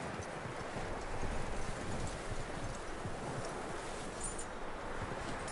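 Horse hooves clip-clop in a steady rhythm in the video game Red Dead Redemption 2 over a rustling, windy outdoor background, fairly close and continuous.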